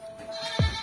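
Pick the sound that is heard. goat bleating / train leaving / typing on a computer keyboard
goat bleating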